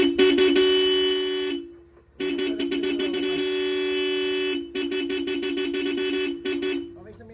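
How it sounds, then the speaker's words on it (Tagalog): A motorcycle horn, on a Yamaha Aerox V3 scooter, blares in long repeated honks with brief pauses between bursts, close and piercing. "Loud horn."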